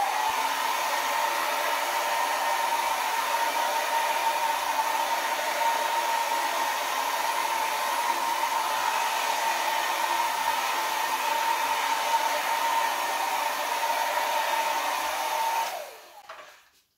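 Handheld blower, like a hair dryer, pushing white acrylic pour paint across a canvas, a steady loud whooshing airflow hum held for about fifteen seconds before it cuts off and fades.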